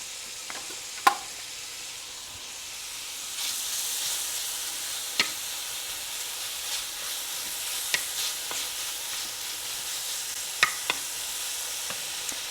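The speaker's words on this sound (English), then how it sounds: "I'm going to put the bacon in there, fry that." Bacon fries in a hot skillet over medium heat with a steady, close hiss, broken by scattered sharp pops and crackles throughout.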